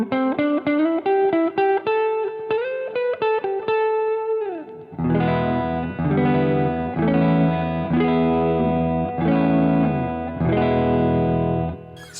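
Clean electric guitar on the neck pickup with delay and reverb, a picked melodic line of ringing notes followed by fuller sustained chords with echoing trails, close and fairly loud, no voices.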